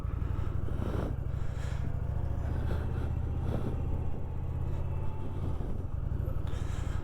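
An Indian Chieftain Dark Horse with a PowerPlus 112 engine out on a ride, its deep pulsing V-twin rumble steady and close, with throttle swells and wind noise over several seconds.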